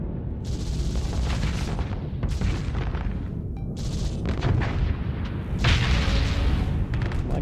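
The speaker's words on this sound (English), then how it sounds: "gun just sounded really cool when it engaged" Heavy ship guns fire in Starsector space combat, deep booming shots landing in repeated waves over a continuous low rumble, loud and close with no talking.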